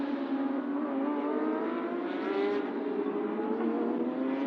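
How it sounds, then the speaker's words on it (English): Porsche Carrera Cup race cars at Sepang circuit on the green flag formation lap, a steady droning engine note with layered harmonics, holding a constant pitch with a slight rise midway, moderately distant. "So the cars are off on their green flag lap."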